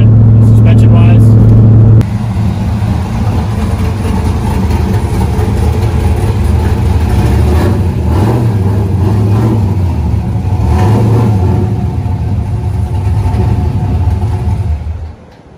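A Trans Am drift car with a MagnaFlow cat-back exhaust drives along on the road, its engine droning loudly and steadily with mild revving, and a voice speaks over it.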